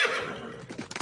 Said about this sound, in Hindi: तंधन दास जी को एक दिन जंगल में खेलते हुए एक सुंदर श्यामकर्ण घोड़ी प्राप्त हुई